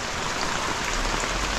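Rain pours down steadily during a storm, a dense, even patter on surfaces close by with no voices.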